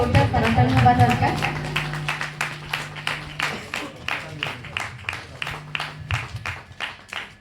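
An audience claps for guests on stage at an All India Radio 'A Day For Radio Lovers' event at Satabdi Bhawan, Cuttack. A voice and a low tone come first, then loud, evenly timed rhythmic clapping.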